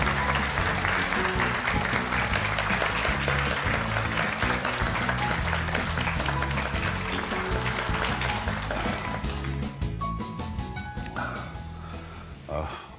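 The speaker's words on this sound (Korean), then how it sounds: "광문환 감독님의 강연 여러분 박수로 청해 주시면 고맙겠습니다." A studio audience applauds to welcome a lecturer onto a Korean morning TV talk show, dense, steady clapping over background music that runs throughout, thinning out near the end.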